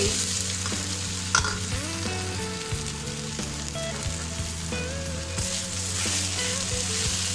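Okra fries in a pan with green chillies and salt, giving a loud, close, continuous sizzle with occasional scrapes and soft tonal clinks over the steady hiss.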